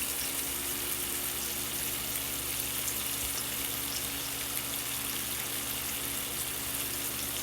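Shrimp frying in a pan give off a steady, even sizzle that holds at a constant level throughout, with no talking.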